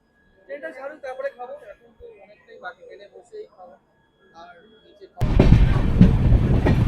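A loud, broadband rumble of a train bursts in after a few seconds of quiet talking at night in thick fog, and continues steadily to the end.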